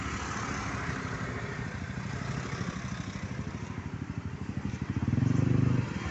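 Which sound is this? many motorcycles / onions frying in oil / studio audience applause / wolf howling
many motorcycles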